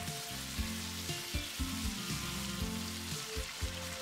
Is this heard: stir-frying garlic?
yes